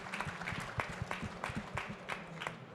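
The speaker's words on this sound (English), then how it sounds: "I want to give you all a round of applause just for that" Applause from an audience at a CES 2023 startup pitch competition, a faint ragged patter of claps from a small crowd, with some voices underneath.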